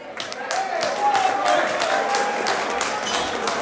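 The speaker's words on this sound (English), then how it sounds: "round of applause for these two warriors" Crowd applause and cheering at a championship boxing match after a knockout, a moderate wash of clapping in a large arena with a voice rising over it.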